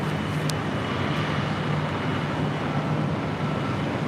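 An Alaska Horizon Embraer E175LR jet arrives at LAX, heard as a steady, distant broadband engine rumble and roar that holds level throughout with no talking.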